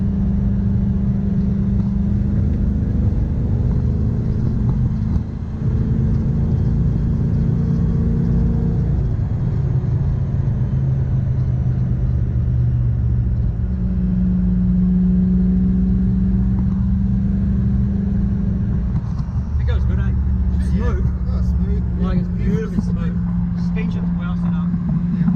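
A Toyota Hilux pickup ute with a 1UZ V8 and Gilmer belt drive runs loud and close, a heavy rumbling engine with a steady whine, rising and falling as it revs and drives.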